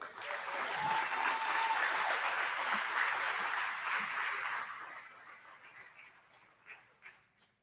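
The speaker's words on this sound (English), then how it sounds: "Round of applause for Tom" An audience at an awards ceremony breaks into steady, loud applause that holds for several seconds, then thins to scattered claps and fades.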